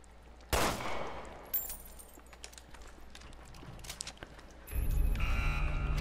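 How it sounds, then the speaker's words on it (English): Gunshots in Resident Evil Revelations 2: one sharp, loud shot followed by a few fainter cracks and clicks, then a low rumbling game sound swells toward the end. "Let me try shooting it down."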